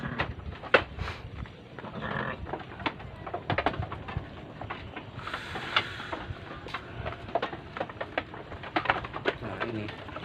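Sheep bleating while feeding, a few wavering calls scattered among busy chewing, shuffling and clattering noises close by.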